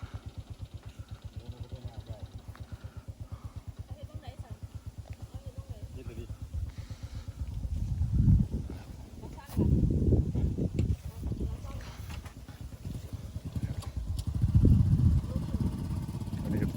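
A rice seed drill machine is driven across a paddy field, its motor putting along steadily, then surging in louder bursts later on while someone talks over it.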